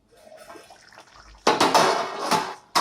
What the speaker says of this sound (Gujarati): આપણે ઢાંકણ ખોલીને ચેક કરી લઈએ